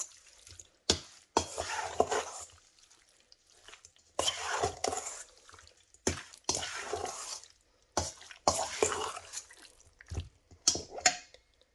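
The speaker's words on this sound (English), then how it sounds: "then you're just going to stir this in." A spoon stirs lemon juice into a tandoori chicken marinade in a bowl, giving soft, intermittent scraping and wet swishing strokes in several short bursts, close and fairly quiet.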